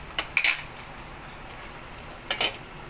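A metal lid clinks onto a cooking pot of sinigang, two short clattering contacts, close and clear, with a quiet room hum between them.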